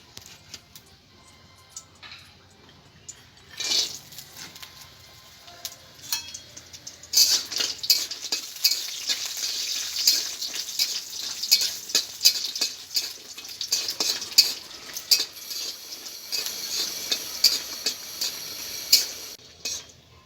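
Pumpkin bori, lentil dumplings, fry in white oil in a wok over a stove, a crackling sizzle that swells after a quiet start, with scattered clinks and scrapes of stirring.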